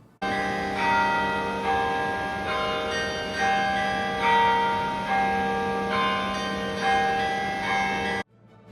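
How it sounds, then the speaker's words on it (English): Tower bells at Longwood Gardens in Pennsylvania ring out a melody, a sustained sequence of resonant pealing notes that rings on steadily for several seconds before stopping. "There are bells that play various tunes."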